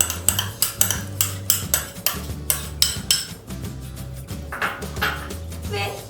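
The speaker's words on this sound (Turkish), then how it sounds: "Pizza sosumu kenarlarında bir parmak kalınlığında boşluk kalacak şekilde pizzamın üzerine güzel bir şekilde yayacağım" A spoon spreads pizza sauce over sucuk pizza dough with a series of regular, close scraping and tapping strokes, roughly two per second, that loosen into softer smearing toward the end.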